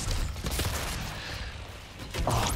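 Shotgun fire in the video game DOOM, several rapid booming blasts amid dense, chaotic game noise, loud and continuous, with heavier bursts at the start and end.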